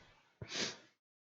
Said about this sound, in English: Pardon me for sniffing in your ear.